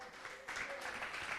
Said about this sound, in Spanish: Colóquese de pie y dele un aplauso al Señor